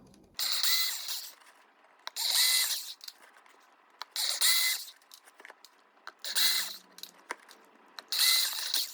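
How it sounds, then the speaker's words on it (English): A power drill whirs in five bursts of about a second each, drilling screw holes in a craft store Halloween decoration coffin shadowbox, evenly spaced with quiet gaps and small clicks between them. "now is just kind of a time to start drilling them out"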